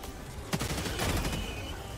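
Gunfire in the video game Helldivers 2, a dense burst of rapid shots with a sharp report near the half-second mark and a heavier volley just after, sounding fairly quiet and distant under a constant noisy wash, with no talking.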